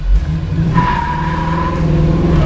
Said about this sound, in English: A lot of torque. It spun the tires pretty easy.